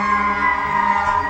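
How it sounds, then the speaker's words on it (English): Police and emergency vehicle sirens wail at night, holding a loud, sustained tone with harmonic layers. The sound stays steady through the whole stretch with no speech over it. "That noise of sirens and police happens all throughout the night"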